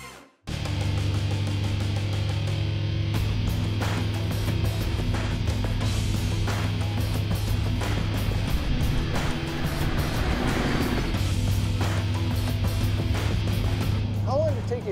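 Custom-built 1932 Ford roadster with a 440 hp engine fires up after a brief silence and settles into a loud, steady idle, with a low drone running throughout and a voice talking over it.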